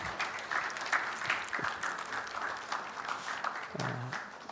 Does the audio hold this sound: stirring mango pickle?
no